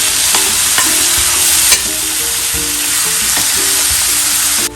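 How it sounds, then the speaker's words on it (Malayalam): Chopped fresh tomatoes hit hot oil for a Punjabi chole masala and are stirred, giving a steady close sizzle with scraping spoon strokes and a sharp clatter near the two-second mark. "ഇനി അടുത്തതായിട്ട് ഒരു 2 ടൊമാറ്റോ വലുത് അത് ചെറുതായിട്ട് അരിഞ്ഞത് അത് ചേർക്കാം."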